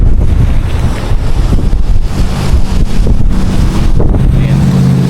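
Strong Santa Ana windstorm gusts in Southern California batter a small microphone, producing a loud, continuous low rumbling roar with buffeting surges and no clear talk.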